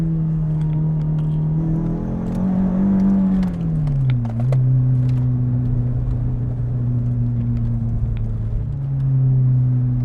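A Renault Clio 2 RS engine hums loudly and steadily, its pitch rising, then dropping as it shifts, and climbing again, with no talking.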